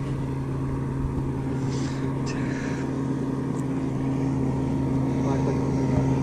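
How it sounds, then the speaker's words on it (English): A motorboat passes a fishing boat on clear water during bass fishing tournament practice, its engine giving a steady, loud droning hum throughout, with faint voices in the background. "There's a boat passing us right now."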